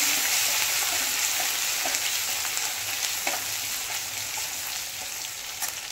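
Hand-crushed ginger and garlic fry in hot oil for a dahi aloo dish, giving a steady close sizzle with occasional soft stirring scrapes, and no voices.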